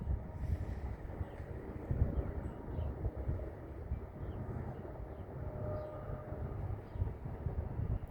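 A CN manifest freight train led by a rare ex-Oakway SD60 locomotive rolls past outdoors, a continuous low rumble of wheels and railcars with wind buffeting the microphone, moderately loud and steady throughout.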